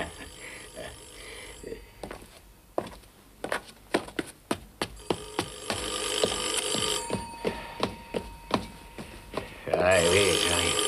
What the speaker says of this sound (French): Il y a le téléphone.